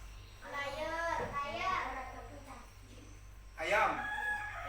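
A rooster crows twice across a farmyard with other chickens nearby, each crow long and drawn out, the second loud and close, over a faint background hum.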